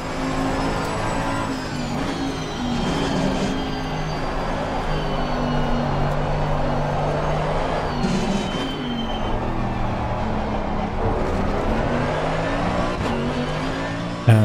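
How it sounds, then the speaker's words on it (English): A GT2 race car engine in Assetto Corsa Competizione runs steadily through the lower gears with repeated shifts, its harmonic drone stepping up in pitch and then dropping at each change, loud and continuous with no talk over it. "I'm gonna now let you have a listen to the engine sound once more"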